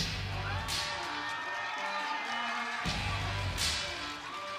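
A dense arena crowd roars and cheers continuously as MMA fighter Kim Sang-wook of Team Stun Gun walks out for the AFC 19 co-main event, with bursts of louder whooping and an announcer's voice over the din.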